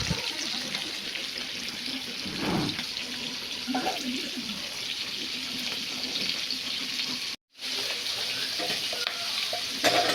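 Fish shallow frying in oil in a pan, a steady broadband sizzle running throughout with a few brief stirring or handling bumps and one short cutout partway through; no one speaks.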